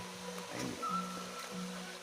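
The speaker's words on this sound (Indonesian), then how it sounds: "Kita lagi berada di sungai kecil ya, salah satu sungai anak sungai yang nanti tembusnya ke Citarum ya." A small tributary stream in Purwakarta, feeding the Citarum river, flows with a soft, steady rush of water that is faint and continuous throughout, with no voices.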